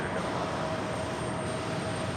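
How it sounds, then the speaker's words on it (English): A JetBlue Airbus A320 on final approach to land on runway 4 right at New York's JFK airport, heard as a steady, broadband engine roar with a faint whine, continuous and fairly even throughout. "JetBlue A320 about to touch down 4 right"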